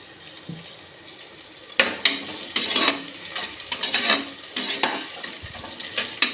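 Sliced onions sautéing in a pan for mutton biryani, a close sizzle broken by repeated stirring scrapes and clatters that grow louder after a quiet start, with no speech.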